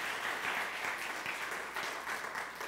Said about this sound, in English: Can we give him a clap praise?